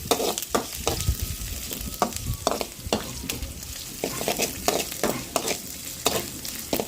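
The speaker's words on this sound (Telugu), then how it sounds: "ఉల్లిపాయలు అయితే ఫ్రై అవుతా ఉన్నాయి కదా అల్లం వెల్లుల్లి పేస్ట్ మెత్తగా జరిగింది ఉండేది కదండి అది వేసుకొని" Onions with ginger-garlic paste fry in a pan with a steady sizzle, while a spoon scrapes and stirs in repeated sharp strokes close by; no one speaks.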